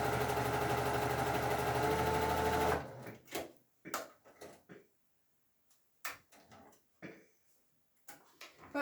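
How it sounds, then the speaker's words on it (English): Sewing machine running steadily for nearly three seconds while stitching a scant quarter-inch seam on a quilt half-square triangle, then stopping, followed by quiet scattered clicks and handling of fabric. "now I've sewn a scant 1/4 inch on both sides of my line"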